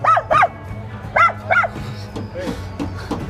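A dog barks in short bursts, two quick pairs of sharp barks close by, followed by softer yips and whimpers with people talking in the background.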